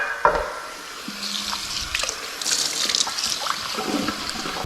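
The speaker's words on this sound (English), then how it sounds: "let me just get some hot water on this one" Hot water from a tap runs and splashes onto a seasoned carbon steel skillet, a steady hissing wash with small clinks and sputters, close and moderately loud with no talking.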